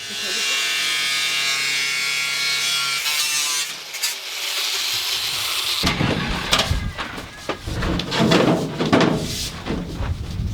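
Power tool cutting an aluminium dinghy hull: a steady buzzing whine in the opening seconds gives way to loud, rough, broadband cutting noise that grinds on unevenly, with speech heard early on.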